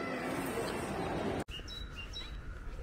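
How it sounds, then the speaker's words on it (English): Birds sing outdoors on a walk, giving a few thin, distant chirps after a louder stretch of wind-like noise. "Distinctive bird song."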